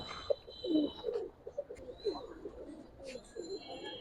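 Giribaz and colouring pigeons cooing close by, with a series of soft, throaty coos and murmurs and faint chirps and other noises mixed in.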